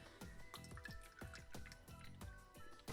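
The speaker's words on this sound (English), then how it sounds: "we're gonna fill it up with water up to a line" Water poured into a small mini drink-making machine splashes and drips in quick, irregular bursts, close up and fairly quiet.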